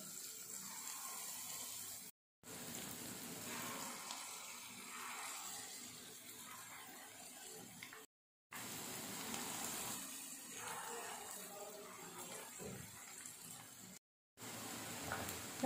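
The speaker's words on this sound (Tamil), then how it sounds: "இதே மாதிரி மீதி இருக்க மாதையும் சுட்டு எடுத்துடலாம்." Idli batter bondas frying in hot oil give a steady, quiet sizzle and bubbling that runs alone in long stretches, broken by brief gaps of silence.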